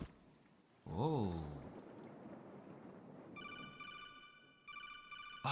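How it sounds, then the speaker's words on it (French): A bright electronic telephone ring in the video game Darwin's Paradox starts partway through and repeats in a steady pulsing pattern, preceded by a short sliding tone and quiet rustling. "Ah, c'est la même sonnerie."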